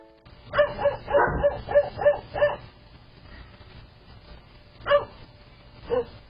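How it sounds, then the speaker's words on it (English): A dog barks in a quick burst of about six barks, falls quiet, then gives two more isolated barks. "That dog is really having a hard time."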